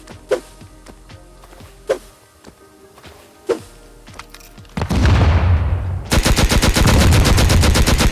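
Rapid explosive-ammo gunfire in the survival game Rust, opening with a few sharp isolated shots and then building into loud, dense, continuous bursts with booming impacts.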